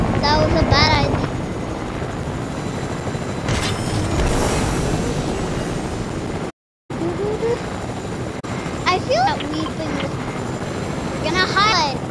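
Steady helicopter rotor thrum and engine noise from a smoking helicopter in Fortnite fill the scene, with chirping electronic effects and people talking over it.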